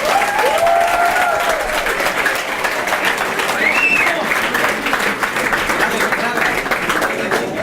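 A large crowd applauds at a public report event in Mexico with sustained clapping, while a voice speaks over it. The applause stays loud and even throughout, and brief whistles rise above it.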